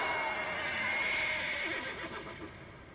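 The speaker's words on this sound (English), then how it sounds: "Then you hear that horse cry." A horse neighs in an anime battle scene, a loud, drawn-out whinny that wavers and fades over about three seconds, heard on its own without talk.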